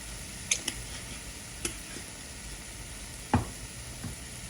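Ground beef empanada filling with oregano fries in a pan with a soft, steady sizzle, broken by a few faint ticks and light knocks of a utensil against the pan.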